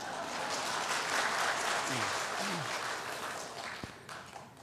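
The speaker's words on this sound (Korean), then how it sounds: "자, 박수 한번 주세요." An audience at a Korean church gathering breaks into strong, dense applause that swells early and then gradually thins and fades toward the end, with a few brief voice-like sounds mixed in.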